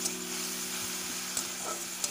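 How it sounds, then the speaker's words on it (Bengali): Cumin and chilli spice paste sautés in a pan with a soft, even sizzle and faint hiss, broken by a few light stirring taps; a low steady hum runs beneath. "এবার মশলাটা আরও ভালোভাবে একটু কষিয়ে নেব"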